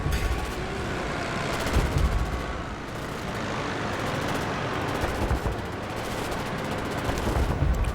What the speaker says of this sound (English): Lots of gunfire going on